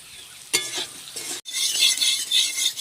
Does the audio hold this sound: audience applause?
no